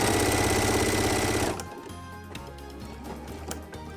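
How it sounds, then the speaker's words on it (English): A sewing machine stitches quilt binding toward a corner, running in a loud rapid whir for about a second and a half, then dropping to a quieter motor hum with light mechanical clicks. "go ahead and stitch all the way to the corner of the quilt"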